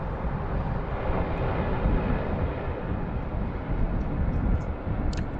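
Malaysian airliner touching down gently on its main landing gear at Sydney Airport in high wind, heard as a steady, loud roar of engine and rushing wind with no break, alone without voices.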